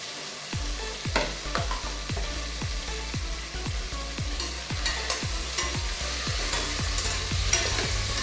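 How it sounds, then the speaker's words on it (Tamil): Tomatoes sautéing in a pot for one-pot chicken biryani, with a steady sizzle and regular spoon-on-metal scrapes roughly every half second, close and fairly loud, no voices. "நல்லா டேஸ்ட்டாக வதங்கணும் தக்காளி."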